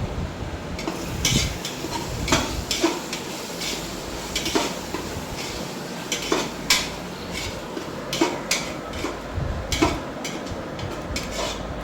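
Shallots sautéing for mutton biryani in a pot, with a soft steady sizzle broken by repeated sharp scrapes and clinks of a spoon stirring against the metal. The sounds are close and moderately quiet, with no talking.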